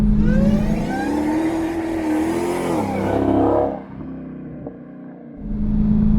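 A loud, deep supercharged V8 of a 2020 Dodge Challenger Hellcat Redeye Widebody roars and revs steadily close by, easing off briefly before rumbling back up.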